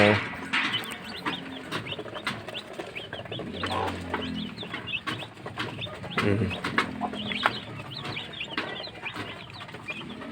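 Small chicks peep in quick, high, repeated chirps close by, with soft clucking and scattered taps mixed in; a person speaks quietly in the background.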